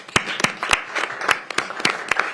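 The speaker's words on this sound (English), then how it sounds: "We're all clapping for fires happening, everybody." Scattered, distinct handclaps from a small group at a county council meeting recognizing Wildfire Awareness Month, about a dozen sharp claps over a few seconds against a quiet room.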